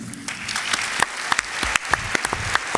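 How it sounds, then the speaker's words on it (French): Steady applause from an audience at a French eloquence contest final, dense continuous clapping with sharper individual claps standing out throughout. "on va les accueillir sous vos applaudissements"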